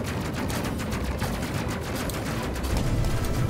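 Spaceship weapons in the Space Crew video game pound a station in a dense, continuous barrage, with rapid overlapping shots and blasts rattling steadily throughout at moderate loudness.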